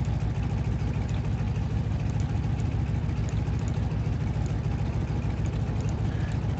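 A Stearman biplane's engine runs steadily in the Microsoft Flight game, a constant low droning rumble held at an even level throughout, with no voices over it.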